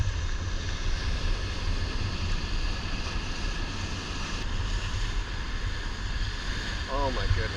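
Turbulent sea water surges and crashes against rocks beside tide pools on a small tropical island, a constant loud roaring wash with wind buffeting the microphone throughout.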